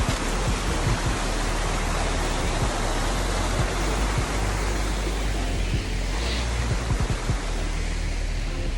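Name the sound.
waterfall in an ancient forest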